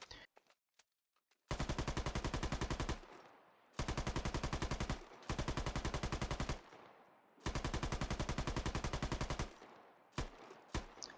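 A PKM machine gun from the Squad video game fires four long, rapid automatic bursts separated by short pauses, with a few sparse single shots at the start and end.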